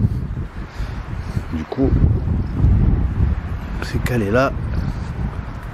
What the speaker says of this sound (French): On prenait le plein vent qui devenait violent.